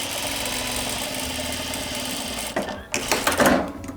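A sewing machine stitches a reusable fabric gift bag, a fast steady mechanical whir that runs continuously, then stops and restarts in short bursts near the end as the seam is back tacked; no speech.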